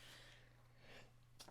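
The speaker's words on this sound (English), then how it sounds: "I got to sneeze" A single sneeze bursts out at the end after a quiet, breathy lead-in.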